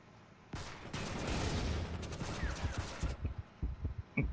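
Gunfire from the stealth shooter Counterspy crackles in a dense rapid burst, then breaks into scattered separate shots, fairly close and steady over a low rumble.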